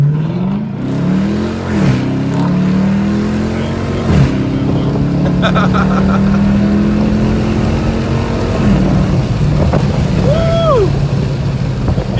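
A 2019 Chrysler 300 V8 with a cold air intake downshifting while driving, its loud engine note dropping and rising through gear changes under steady road and wind noise, with a brief voice.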